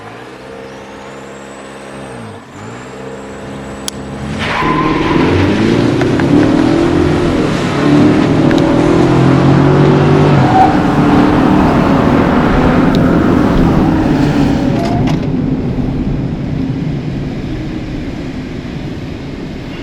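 A 2023 Nissan Frontier Pro4X pickup floored at full throttle, its engine roaring loud and close for about fifteen seconds in a sustained climbing drone before easing off.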